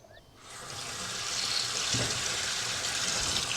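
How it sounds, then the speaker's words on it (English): Kitchen tap gushes water steadily over radishes being rinsed, starting abruptly after a brief quiet moment and then flowing loud and close without pause. "Just rinsing through the radishes because you don't want soil on there."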